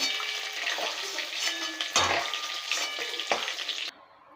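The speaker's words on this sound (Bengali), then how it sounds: "আমরা হালকা করে চিংড়ি মাছটা ভেজে নিচ্ছি কালিয়ার জন্য" Prawns fry lightly in hot oil for a Bengali village-style chingri malai kalia, giving a steady bright sizzle with a few louder stirring crackles, close and continuous before cutting off abruptly.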